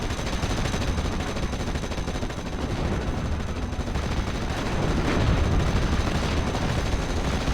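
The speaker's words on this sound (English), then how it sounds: "get some countering battery fire going." Dense, continuous rumble of artillery and gunfire from a Steel Division Normandy 44 battle, with 75mm guns firing counter-battery fire at anti-tank guns, the blasts merging into a steady roar that swells slightly toward the end.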